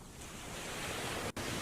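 Steady broadband wash of ocean surf, soft and continuous with a faint hiss of wind, heard at a distance with a brief dip in the middle.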